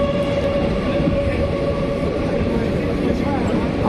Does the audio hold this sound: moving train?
yes